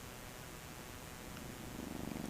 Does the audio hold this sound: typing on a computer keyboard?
no